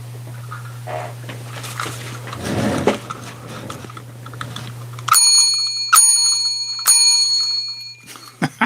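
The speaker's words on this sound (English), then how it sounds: "let's ring that bell" A bicycle-style bell rings several times in bright, sharp strikes over a steady low hum, loud and close, following a stretch of rustling handling noise.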